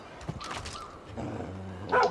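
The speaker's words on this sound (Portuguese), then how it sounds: "Para de latir pro meu cachorro" A dog in the video game New Dawn barks a few times, sounding slightly synthetic and game-like, over a low electronic hum, ending with a sharper yip.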